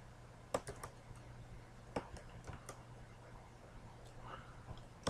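Keys clacking on a computer keyboard while entering C++ code, a few sparse clicks and short bursts, close and quiet over a low steady hum.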